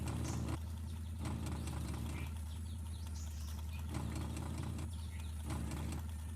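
A video game vehicle engine, a battered-sounding car or motorbike, runs with a steady low idling rumble that swells and eases in broad pulses, with no talk over it.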